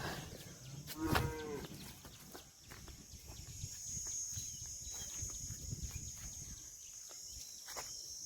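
A single loud cow moo sounds early on, followed by steady insect chirring and outdoor background noise.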